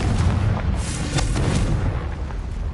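The Confringo fire spell in Hogwarts Legacy, a dense, continuous booming rumble with crackling bursts, loud and close, filling the whole stretch without any voices.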